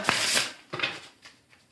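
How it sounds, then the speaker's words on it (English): A deck of tarot cards is shuffled by hand, a few quick papery riffling bursts close by and fairly quiet, with no talk. "One more shuffle, and then we'll get the cards up."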